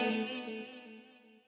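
A Lexicon PCM81 chorus and reverb patch with reflection and echo delays, a sustained harmonic tone smeared and decaying over a second and a half, fading gradually from moderate to faint.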